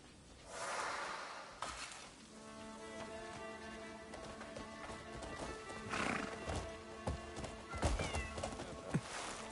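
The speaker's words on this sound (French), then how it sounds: "Nourrir le cheval." A horse in the video game Crimson Desert whinnies loudly with a long, pitched neigh, while hooves clip-clop in scattered beats amid soft rain, all fairly close.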